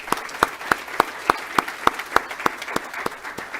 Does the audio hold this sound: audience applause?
yes